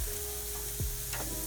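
Basted barbecue skewers on a street-food grill give a steady, close sizzle, with a brief scrape as they are turned.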